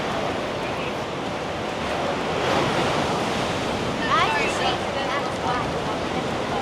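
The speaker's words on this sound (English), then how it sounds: "You can hear the waves breaking underneath the ships here against the pier." Ocean waves churn and break against a cruise ship pier in a continuous broad wash of surf, mixed with wind buffeting the microphone and faint voices nearby.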